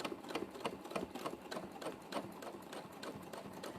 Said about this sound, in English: So it's making that nice chunky noise because of all the